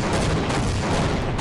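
Gunfire in the video game Half-Life comes as a dense, loud burst of overlapping shots and booms that fills the short moment, with no talking.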